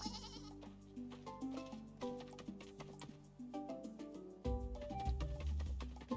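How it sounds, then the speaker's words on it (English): A baby goat bleats repeatedly in short wavering cries, close and fairly faint, over soft background music with no talking. "Baby goat."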